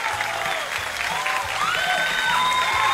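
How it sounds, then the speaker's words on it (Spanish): Audience applause in a live talk-show setting, a dense steady patter of many hands clapping throughout, with whoops and a whistle-like cheer rising over it. "un aplauso para Andrés"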